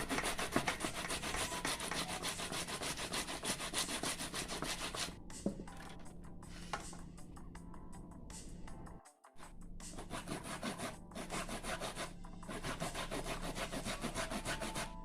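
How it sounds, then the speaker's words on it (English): Cassava being grated by hand on the coarse side of a metal grater while making Jamaican bammy: a steady, loud rasping scrape that runs almost continuously, with one brief pause partway through. "For grate, I'm going to use this side. And with grater."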